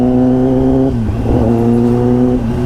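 A police jail transport truck goes by on a road, its loud engine droning with steady tonal harmonics that dip and shift briefly as it passes close.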